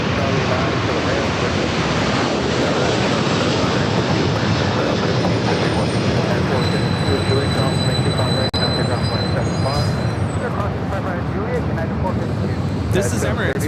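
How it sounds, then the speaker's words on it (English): An Emirates Airbus A380 takes off at LAX on its way to Dubai, a steady, dense roar that holds at full strength for the whole stretch with no break. "This is Emirates Flight 216 taking off to Dubai on the A380."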